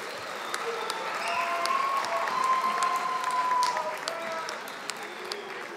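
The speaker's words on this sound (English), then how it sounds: "Give them a round of applause as they make their way off stage." At a fall graduation ceremony, the audience gives optician graduates a steady round of applause as they leave the stage, moderately loud and sustained, with voices in the room beneath it.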